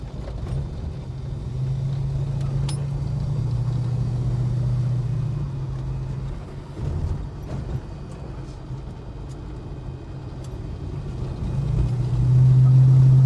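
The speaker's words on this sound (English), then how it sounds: "I think I've got my idle way too low" A Holden HK car engine idles low and steady with a deep droning hum, its pitch dipping and surging slightly as the idle hunts, close by with no talk.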